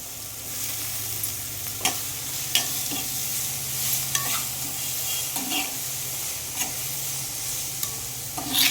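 Onion and turmeric fry in hot oil for a quick potato chutney, a steady close sizzle punctuated by regular clinks and scrapes of stirring throughout.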